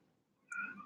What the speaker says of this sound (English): outside of the door meowing to be let in